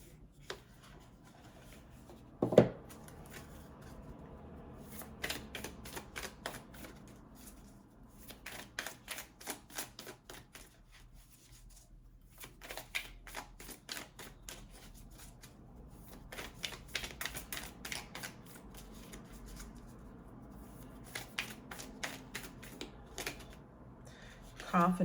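A Moonology oracle card deck is shuffled in repeated rapid bursts of crisp riffling clicks, close and fairly soft, with short pauses between rounds and a voice talking intermittently.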